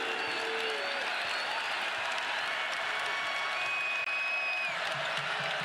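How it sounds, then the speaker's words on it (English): Arena crowd at a Florida versus Tennessee men's college basketball game roaring and applauding after a Tennessee three-pointer, a broad sustained cheer filling the space, with faint broadcast commentary underneath. "And the Rocky Top crowd getting into it."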